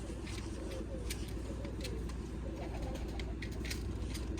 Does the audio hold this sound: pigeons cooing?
yes